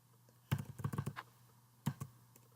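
Quiet clicks of a computer keyboard, one quick run of keystrokes followed by a brief pause and a couple more taps, close and soft with no talking.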